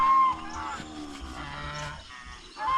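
A red cow on a Philippine farm lets out long, drawn-out moos close by, with a brief pause before another call begins at the end.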